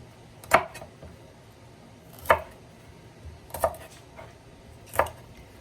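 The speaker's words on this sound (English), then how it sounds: "And we're gonna chop." Four sharp, distinct knife chops through scallions on a cutting board, spaced about a second apart, close and clear against a quiet background.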